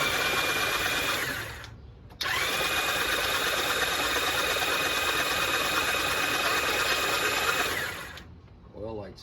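A 1994 Honda GL1500 Goldwing flat-six, fuel pump disconnected, cranks over steadily on the starter for a compression test, a continuous close whirring drone that stops briefly, resumes, then winds down.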